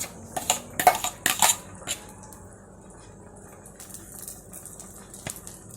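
Whisked egg batter is tipped from a bowl into a frying pan with a few clinking knocks of metal and a soft wet pour, followed by quiet, faint handling sounds.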